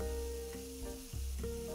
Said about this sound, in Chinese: 1分钟以后翻面，再煎1分钟